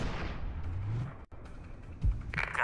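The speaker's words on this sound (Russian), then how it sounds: "Трейсер 32, ждем твоего выстрела." A sniper rifle shot in Sniper: Ghost Warrior 2 lands as a loud, near boom that rolls into a long rumbling decay, followed by a brief cutoff and another heavy thump.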